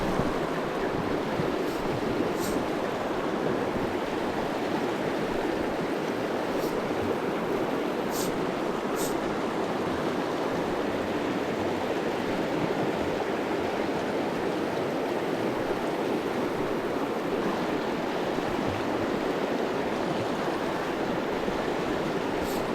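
The Blue River in Colorado rushes along in a steady, unbroken wash of flowing water, close and constant, with no voices over it.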